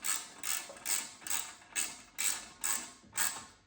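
Ratchet wrench tightening parts on a snowblower during repair, eight steady rhythmic clicking strokes close up, each a short metallic ratcheting burst, with no talking.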